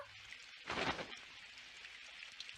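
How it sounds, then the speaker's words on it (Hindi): Steady rain patters continuously, with a brief heavier gust or splash swelling near the start before settling back to an even downpour. "काश ये बारिश जल्दी से रुक जाए"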